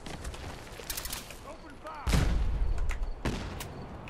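Gunfire in Fallout 4 at a junkyard, a few sharp shots and bursts with one heavier blast midway, set against ambient game noise.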